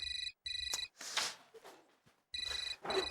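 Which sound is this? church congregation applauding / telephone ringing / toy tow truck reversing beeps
telephone ringing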